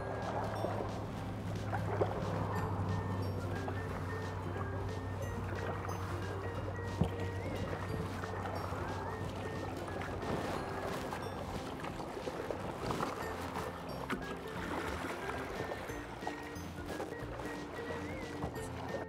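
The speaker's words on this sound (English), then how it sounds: "now I'm gonna paddle this kayak" A Seastream Angler PD pedal-drive kayak being paddled with a Yak Gear Assassin paddle on open water: a faint, steady wash of water and paddle noise with no distinct splashes.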